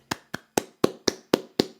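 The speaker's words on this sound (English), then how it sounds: "That is a round of applause for a heck of a season from San Diego State." A single person claps seven times in a quick, steady rhythm. The crisp, close hand claps sound like a short round of applause for a San Diego State college basketball season, with no voices.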